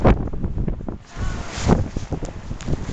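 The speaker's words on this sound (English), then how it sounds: "The snow is like waves, just blowing everywhere, getting deeper as I walk." Heavy wind roars through a 2011 blizzard, gusting and buffeting the microphone as snow blows around, loud and continuous with no voices.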